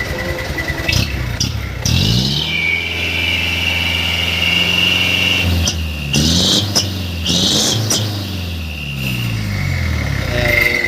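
Motorcycle fitted with a Cung exhaust in the Takalar style, idling with a loud rough rumble and then revved several times, its pitch rising and falling close by, with faint voices under it.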